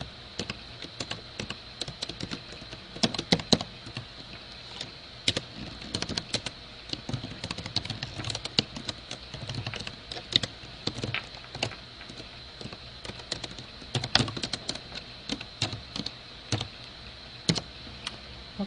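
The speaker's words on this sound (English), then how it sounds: "So here's where you type in your information." Computer keyboard typing at a steady pace, quick irregular key clicks with occasional louder strokes, close and continuous throughout with no talking.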